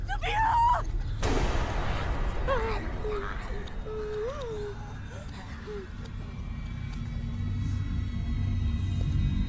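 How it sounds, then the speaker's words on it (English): A single sharp gunshot bursts out early in a scene from The Walking Dead Destinies video game, followed by voices talking over a low rumbling ambience. "Make sure all that gunfire didn't draw more walkers."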